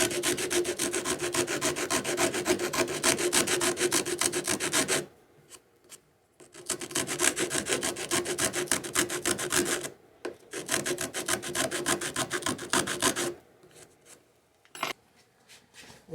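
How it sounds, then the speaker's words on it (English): Riffler rasps filing wood: two long bursts of fast, steady back-and-forth rasping strokes, loud and close, separated by short pauses, with a brief scrape near the end. "So I'm going to see what I can do with these rasps, these Riffler rasps"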